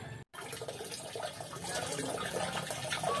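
Water pours steadily into a backyard aquaponics bell siphon built from PVC pipe and a plastic cup, a close, continuous splashing rush that grows slightly louder after a brief dropout near the start.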